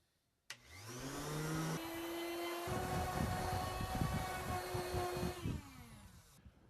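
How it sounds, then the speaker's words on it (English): A palm sander smooths a cured, glued joint on a Polar Lights NCC-1701-A plastic model kit, its motor spinning up into a loud, steady whine with a rough buzzing grind before winding down, no voices present. "I'm just going to go ahead and give it a quick once-over with the palm sander here."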